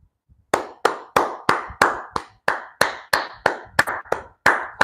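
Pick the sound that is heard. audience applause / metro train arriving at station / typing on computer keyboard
audience applause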